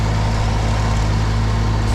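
Snowblower engine running steadily while clearing fluffy, light snow, a constant close droning hum with strong low harmonics and no voices.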